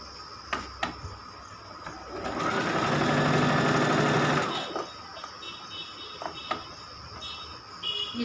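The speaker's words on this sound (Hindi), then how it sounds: "बड़ी सिलाई डालेंगे इस पे।" A sewing machine runs a long continuous burst of stitching through a blouse lining, loud and close, starting and stopping cleanly with quiet handling noises before and after.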